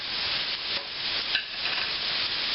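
Shrimp cooking in a pan with salt, garlic and balsamic vinegar, giving a steady, moderately loud sizzle that runs the whole time, with a brief brighter crackle midway and no voices.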